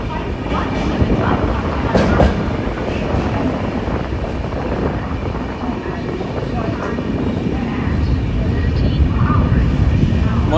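Heard from on board, express train 12042 from Darjeeling to Kolkata races at high speed through Guskara station, a dense, unbroken rumble and rattle of wheels and carriages with faint clicks, loud and continuous.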